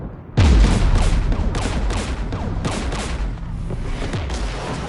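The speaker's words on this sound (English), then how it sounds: "We're taking fire." Loud gunfire and artillery from a Mass Effect battle erupt with a heavy boom, then keep crackling in rapid overlapping bursts of shots and blasts, dense and close throughout.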